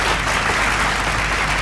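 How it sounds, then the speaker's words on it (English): Steady, dense applause from a debate audience for both competing schools, filling the whole moment loudly with no voices over it. "A round of applause to both schools, please."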